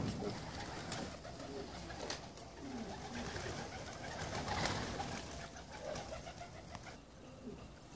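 Pigeons of a unique breed coo steadily in a soft, continuous murmur, with occasional brief higher chirps and wing flutters.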